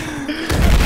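A sudden heavy explosion in Battlefield 4 bursts in after a brief quieter moment, a deep booming rumble that swells loud and fills the sound.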